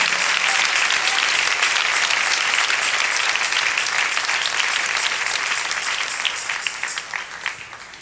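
Loud, sustained applause from a church congregation, steady throughout and tapering slightly toward the end.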